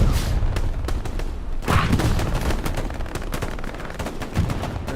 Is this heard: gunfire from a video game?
yes